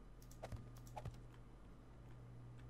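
Two quick clusters of computer keyboard clicks, including a Shift key press, during 7 Days to Die gameplay, each a short sharp tap around a steady low background hum, fairly quiet and close.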